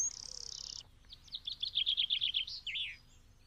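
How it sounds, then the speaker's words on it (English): In spring, a small bird sings close by: a high, buzzy trill, then a quick run of bright chirping notes in a rhythmic phrase, over a faint, quiet background. "And birds start to sing to let everyone know that spring has arrived."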